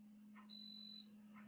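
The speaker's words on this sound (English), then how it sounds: "That was the humidifier turning on." A single high-pitched electronic beep lasting about half a second as a Spider Farmer humidifier turns on, over a quiet low hum from the appliance.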